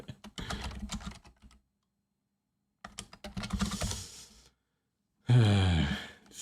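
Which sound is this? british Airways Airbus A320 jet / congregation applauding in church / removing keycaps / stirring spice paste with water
removing keycaps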